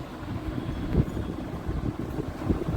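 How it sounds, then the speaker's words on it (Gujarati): Wind blowing outdoors and buffeting the microphone with a steady low rumble and small gusts. No one speaks. "બહાર છે ને બહુ મસ્ત પવન છે"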